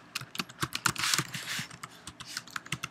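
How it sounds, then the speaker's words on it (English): Quiet, close typing on a computer keyboard, a quick uneven run of light key clicks with no voices. "I can just start typing"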